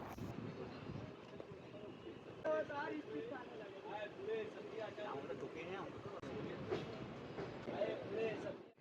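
Bibhuti Express 12333 passenger train rumbling along with steady rail clatter, carriage noise filling the whole stretch while people talk over it inside the coach.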